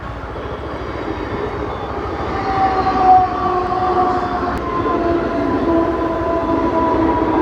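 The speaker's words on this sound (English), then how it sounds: "So here comes the train." A Harbour line commuter train in Mumbai rumbles loudly past a level crossing, a sustained heavy roar with a whining tone rising and holding for several seconds.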